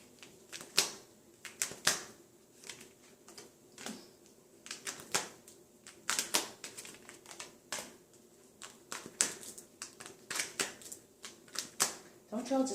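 Power of Love oracle cards are shuffled up close in repeated quick riffling bursts and crisp slaps, separated by short pauses, with soft talking faintly underneath.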